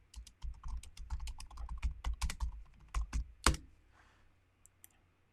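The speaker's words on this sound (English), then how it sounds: "But we can start typing" Rapid typing on a computer keyboard, a dense run of sharp key clicks at close range, tapering off into near silence toward the end.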